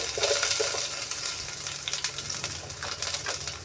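Fenugreek seeds and onions hit hot oil for a pepper rasam tempering, giving a dense, close, crackling sizzle that stays steady throughout with no voices.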